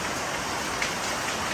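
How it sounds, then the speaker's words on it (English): Heavy monsoon rain falls steadily in a constant broadband wash, pattering on surfaces with no pauses and no voices. "we'll watch the monsoon pass by"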